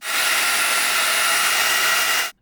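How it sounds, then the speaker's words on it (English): An Autobot VX Pro handheld vacuum cleaner whines steadily at close range with a loud, bright airy roar of 69 to 80 decibels for a couple of seconds, then shuts off abruptly. "This vacuum is noisy, ranging between 69 and 80 decibels."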